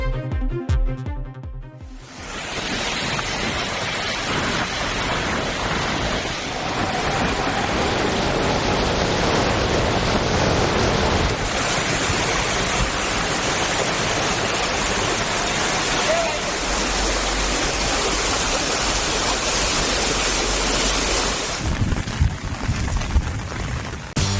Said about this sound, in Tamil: ஜஜ்ஜார் பகுதியில் தொடர் கனமழையால் வெள்ளம் கரைபுரண்டு ஓடுகிறது